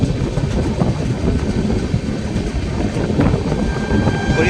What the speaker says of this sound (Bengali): হরিদাসপুরে ক্রসিং হচ্ছে।